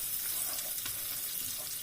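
Food for an omelette browns in a frying pan with a steady, close crackling sizzle and a faint scrape or stir partway through, with no voices.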